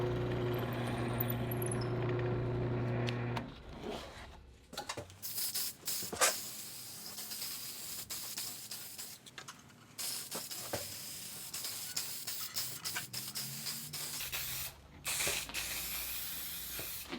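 Aerosol lacquer sprayed in thin coats onto a wooden fishing rod hanger, heard as repeated close hissing bursts of varying length with short pauses between passes, alone without talk.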